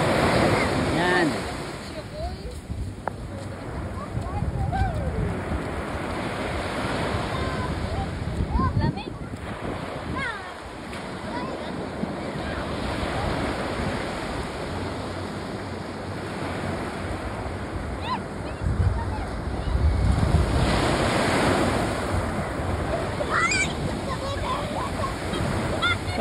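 Ocean waves break and wash on Bournemouth beach in summer, a continuous surf roar mixed with heavy wind buffeting the microphone, while people talk and call out nearby.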